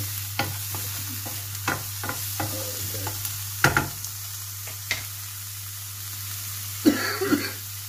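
Onion sizzles softly in a pan for hot Cajun king prawns, with occasional utensil knocks from stirring over a steady low hum and a brief cough.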